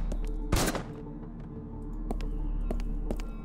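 Gunfire in the video game Haydee: one sharp, loud broadband shot burst stands out, followed by fainter impact-like ticks over a steady game hum, with no talking.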